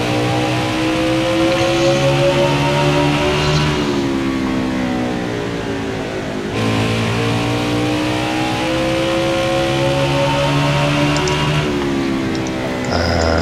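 Simulated NASCAR stock car engine in the racing game NASCAR Heat 5, a loud continuous roar with harmonic pitch sweeping up and down through shifts and throttle changes, no talking.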